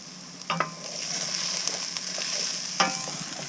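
Onions and curry leaves fry in a pan for a roasted vegetable madras cooked aboard a widebeam canal boat. A steady sizzle is broken by two sharp clanks of stirring.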